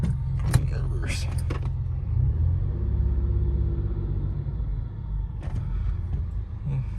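A 1998 Ford Contour SVT with a manual gearbox rumbling steadily at low revs while it is put into reverse, heard close from inside the car with a few clicks and knocks at the start and end.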